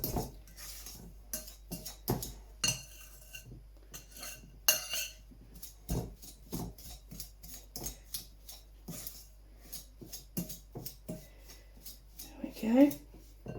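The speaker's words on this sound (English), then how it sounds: "just using a fork I'm just going to combine the butter and sugar together" A fork works butter and sugar together in a bowl, with a run of irregular scraping clinks against the bowl between soft pauses, close and fairly quiet.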